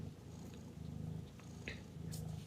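A domestic cat purring steadily up close, a low rhythmic rumble pulsing in long breaths, with a faint brief high sound partway through and no voices.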